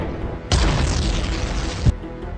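An enemy fighter plane blows up in an air combat board game sound effect, a sudden loud boom that rumbles for over a second, then cuts off sharply into quiet, with no voices.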